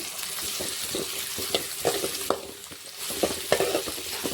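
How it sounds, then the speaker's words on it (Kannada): Chopped onions fry in a pan for a ridge gourd dish, with steady close sizzling broken by repeated scraping stirs of a spoon against the pan, no talking. "ಇವಾಗ ನಾವು ಫುಲ್ ಕೆಂಪು ಆಗತ್ತನಕ ಫ್ರೈ ಮಾಡ್ಕೊತೀನಿ ರೀ ಈರುಳ್ಳಿದು"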